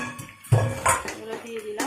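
Metal pots and utensils clink and clatter sharply a few times while shrimp is cooked with eggplant and potato, and someone talks over the kitchen sounds.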